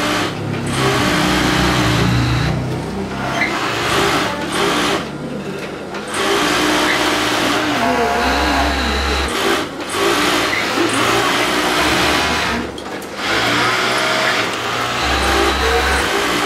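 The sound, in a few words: overlock sewing machine running, test of needle movement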